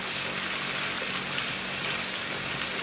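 Broth trickles gradually into a brown espagnole sauce, giving a soft, continuous watery pouring hiss, close and fairly quiet, with no talking.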